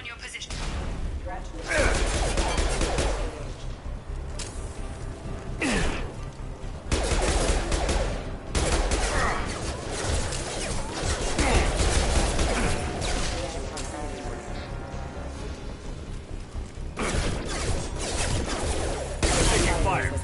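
Gunfire from security mechs in Mass Effect 2 comes in bursts of rapid shots and crashes over a busy background, with voices talking between the volleys.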